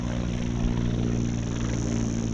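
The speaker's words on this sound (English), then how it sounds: "They've sent in the friggin' choppers, Kayla." A helicopter flies overhead near a beach, its steady droning rotor and engine hum loud and constant throughout with no talking.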